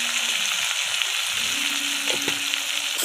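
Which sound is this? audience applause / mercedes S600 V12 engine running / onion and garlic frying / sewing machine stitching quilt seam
onion and garlic frying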